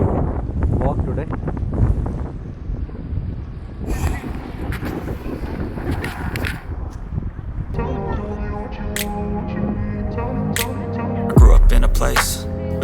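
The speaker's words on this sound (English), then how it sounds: "the wind speed is very high, almost 39-40 km per hour, so it's not easy to walk today" Strong wind of almost 40 km per hour in Krakow buffets the microphone with loud, continuous low rumbling gusts. A voice speaks faintly at first, and tonal music comes in toward the end.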